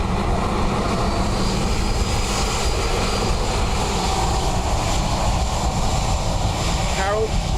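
Loud, continuous roar of an aircraft engine at Dublin Airport on a windy day, close and steady throughout with wind rumble underneath.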